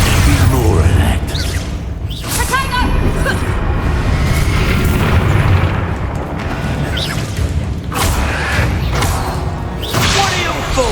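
In Hogwarts Legacy, the Expulso spell sets off a run of loud, booming blasts with rushing whooshes and crackling debris, heavy and close, while a voice talks over the chaos.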